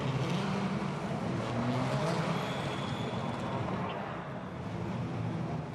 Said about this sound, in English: Cars on the grid, anxious faces in the pit garages, waiting for the start of the opening race here at Shanghai in China.